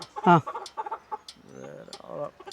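A chicken clucks loudly nearby in a few sharp bursts, with softer murmuring voices around it.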